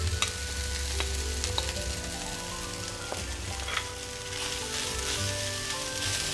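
Shredded chicken is stirred in a hot frying pan, a continuous close sizzle with intermittent scrapes and soft clicks of the spoon against the pan, over a steady low hum, without any talking.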